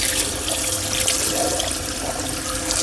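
Tap water running steadily into a sink while hands are rinsed of soap, a close, continuous splashing hiss with slight shifts as the hands move under the stream.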